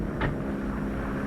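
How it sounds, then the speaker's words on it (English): A 1941 ambulance plane approaching to land in thick weather, a steady low droning engine hum held throughout at moderate loudness with a brief higher whoosh near the start, no voices. "Nagel ambulance plane coming in on the beam."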